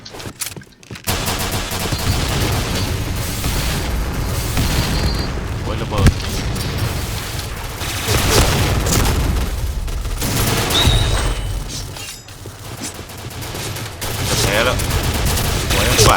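Heavy, sustained gunfire in the online shooter Point Blank, loud bursts and booms crowding together almost without pause, with a voice talking over the shooting.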